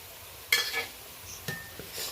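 Spoon stirring ground chili, turmeric, cumin and coriander with hot water in a pan, a few scraping clinks and soft sizzling strokes, close and fairly quiet, with no talking.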